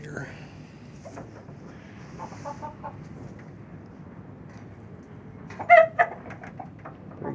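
Hens in a coop on a windy day make soft, scattered clucks and coos over a low wind hiss, then a short burst of louder, sharper clucking near the end.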